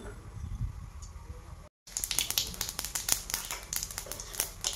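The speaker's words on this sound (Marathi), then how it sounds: "आणि मोहरी अशी छान तडतडली आहे।" Mustard seeds crackling in hot oil in a wok during tempering in a village kitchen: a quiet hiss, a brief dropout, then a dense run of sharp close pops and snaps, no talk.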